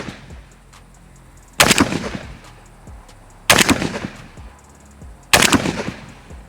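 A 5.56 rifle with no muzzle device fires three loud, sharp shots spaced about two seconds apart, each ending in a short rolling echo.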